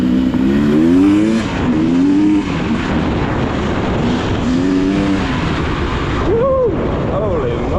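A 2024 Beta XTrainer dirt bike is ridden hard nearby, its engine revving up and down in rising and falling whines as it speeds along, loud and up close.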